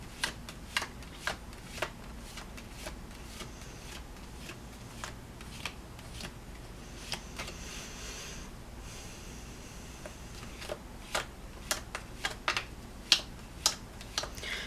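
Tarot cards shuffled and flipped by hand, a newish deck giving a steady run of crisp snaps and riffles, close and fairly loud, with sharper flicks toward the end.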